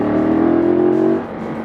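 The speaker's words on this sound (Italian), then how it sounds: "qua sotto si tocca il gas e la moto proietta fuori dalle curve" A Ducati 916 motorcycle with its Desmo engine accelerates hard out of a curve, a loud close steady engine roar that holds for about a second before easing off slightly.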